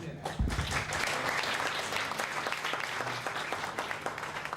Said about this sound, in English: I think Paula deserves a round of applause